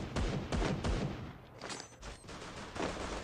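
Rapid bursts of gunfire from the battle royale game Free Fire, several sharp volleys in a row at moderate level with a short lull in the middle and no talking.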